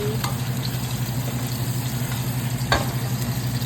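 Ingredients are stirred into hot red oil in a pot for an Ivorian fish soup, giving a steady close sizzle and bubbling with a couple of brief scraping knocks, no talk.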